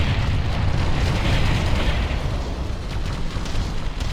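Destroyed enemy Aerodyne bursting apart in the sci-fi strategy game Ground Control, a broad, rumbling explosion sustained over several seconds with crackling debris, loud and continuous without speech.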